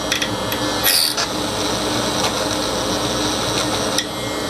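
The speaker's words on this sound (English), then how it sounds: "I'm going to actually just drill out the rest of that solder." A small drill bores out solder on a water-damaged Bobcat keyed panel controller board, a steady close whining grind with a few brief scraping catches.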